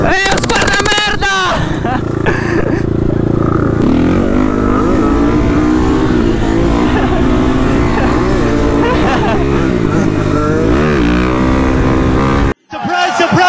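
A loud motorcycle engine revs and roars up and down repeatedly, close by, with people talking and shouting over it before it cuts out abruptly.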